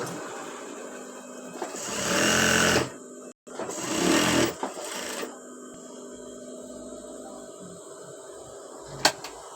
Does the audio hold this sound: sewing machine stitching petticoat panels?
yes